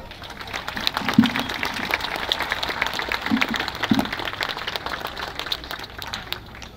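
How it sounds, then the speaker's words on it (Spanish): Moderate crowd applause for an honored guest couple at an Independence Day Grito celebration, a scattered, steady patter of clapping with a few louder thumps. "Un aplauso, por favor"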